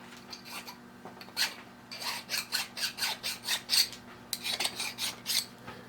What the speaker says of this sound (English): I got to take and run the burr or a file over it to clean off the burrs